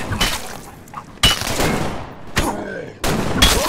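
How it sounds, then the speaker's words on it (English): State of Decay gunfire: loud bursts of rapid automatic shots, about four volleys separated by short pauses, close and harsh. "this gunfire is really loud"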